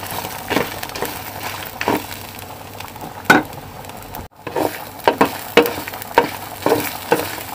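Dry green gram is roasted and stirred in a pan, giving a soft background sizzle broken by repeated scraping strokes of the spoon at an uneven rhythm, close and without talk.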